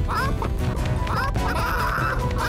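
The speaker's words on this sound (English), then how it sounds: "Whoops. The chickens are stampeding." Cartoon chickens stampede with loud, frantic squawks and quack-like cries over a busy, continuous background in a children's animated show. The calls come in several rapid bursts.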